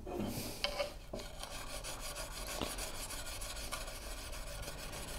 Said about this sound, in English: You can kind of tell it doesn't make as much scratchy sound when I'm using this one because it's a finer grit.